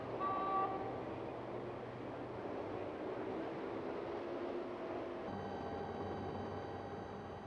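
Dense traffic of Hong Kong taxis crawling in a 1984 protest convoy, a steady engine and road rumble with sustained horn toots sounding over it throughout.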